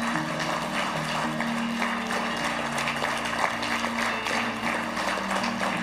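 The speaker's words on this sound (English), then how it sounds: "Come on, give the Lord a good clap offering of praise." A church congregation claps in praise at a Wednesday evening service, a dense, sustained wash of applause over a steady sung or organ tone, with no talking.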